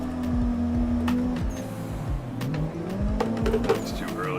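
Sim racing drift game with a car drifting on the handbrake: engine revs rising and dropping through gear changes, with tyre squeal and skidding, loud and continuous.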